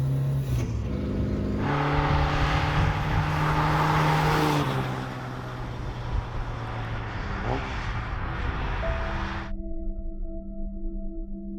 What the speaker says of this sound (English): sound of this engine is just egging you on to give it the beans